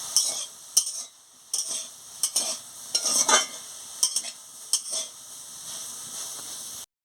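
A spatula stirs water spinach (kalmi greens) frying in a pan, making a series of scraping, rustling strokes over a soft sizzle, with brief pauses between them and a steadier hiss at the end.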